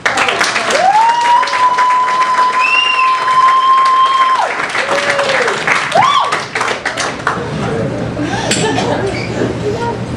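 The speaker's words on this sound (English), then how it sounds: "Please give a warm round of applause for Mr." A comedy club crowd at the Punchline in Atlanta applauds comedian Jimmy Baron in a steady, close wash of clapping, cut through by long piercing whistles and a few shouts.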